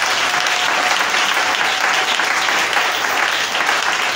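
A church congregation applauds in praise during a service, sustained and even clapping from many hands filling the room without pause.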